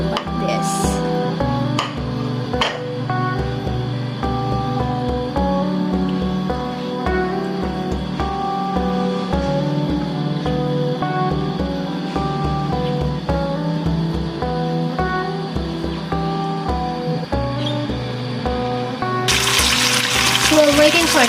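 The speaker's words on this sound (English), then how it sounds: "So I have bacon here. Fry like this." Bacon frying in a pan gives a steady crackling sizzle throughout, with occasional pops and rhythmic low thumps underneath, and a brief burst of louder hissing near the end.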